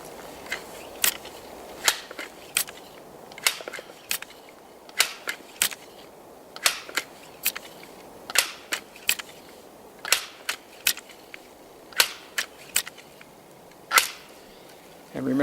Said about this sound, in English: takes a lot of muscle to pump these, so I put it on my thigh, this part of the gun